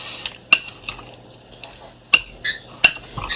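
Beef stir fry marinade being mixed in a bowl, with a few sharp utensil clinks against the dish and soft liquid sloshing between them, close and otherwise quiet.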